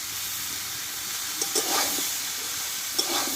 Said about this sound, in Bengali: মশলাটা এর সঙ্গে একটু ভেজে নেবো আমি